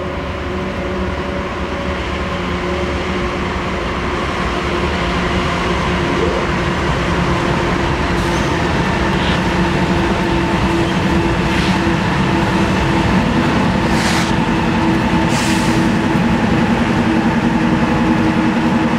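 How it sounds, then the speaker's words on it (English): A Norfolk Southern freight train rolls past close by, a loud continuous rumble and rail roar with faint clicks from the cars, heavily buffeted by wind gusting across the microphone throughout. "I apologize for the awful wind noise as this train is rolling by."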